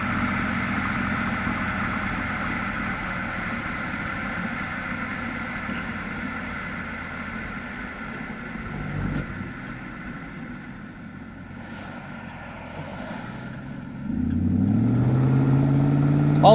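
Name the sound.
1999 Pontiac Firehawk 5.7 LS1 automatic cruising on road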